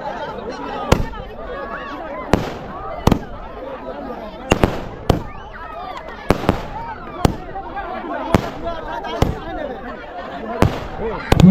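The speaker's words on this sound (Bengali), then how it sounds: "চলছে ফাইনাল খেলার পূর্বে আতশবাজি প্রদর্শন" Fireworks display set off before the final of a village mini football tournament, with sharp pops and bangs bursting roughly every second over a steady crowd murmur and outdoor chatter.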